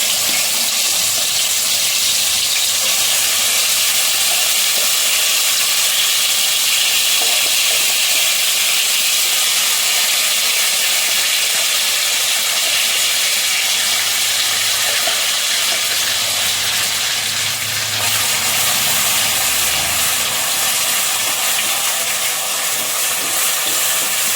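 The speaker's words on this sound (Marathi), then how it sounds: "मसाला छान तेल सुटेपर्यंत परतून घ्यायचा आहे." Masala sizzles in hot oil for a mutton curry: a steady, loud, hissing fry that runs unbroken throughout, with no talk.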